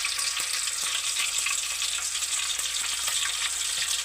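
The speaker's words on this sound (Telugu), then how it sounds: "గుడ్లు అయితే నూనె పోసి వేయించుతున్నాను ఫ్రెండ్స్." Eggs frying in oil in a pan, a steady close hiss and crackle of sizzling with small pops throughout, with no talking over it.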